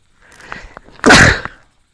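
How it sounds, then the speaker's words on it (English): One loud, sharp sneeze bursts out close by outdoors while watching deer, preceded by a few faint breaths and small sounds. "I sneezed and it scared him for sure."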